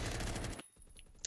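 Rapid automatic gunfire from a Roblox Phantom Forces firefight, a dense loud burst for about half a second that cuts off abruptly, followed by fainter scattered shots and a sharp final crack.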